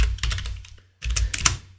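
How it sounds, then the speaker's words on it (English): Rapid clicking keystrokes on a computer keyboard, heard close in two quick bursts with a brief pause between them. "Okay, let me type it out."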